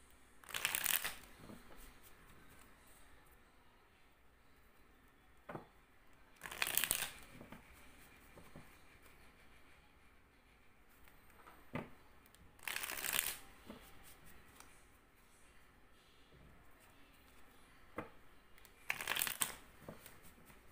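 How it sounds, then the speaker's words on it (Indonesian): Tarot cards are shuffled close up in four separate short bursts of riffling and flapping, spread evenly across quiet pauses, with no talking. "aku akan shuffle kartunya"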